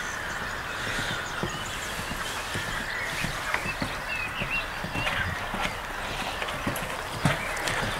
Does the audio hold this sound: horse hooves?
yes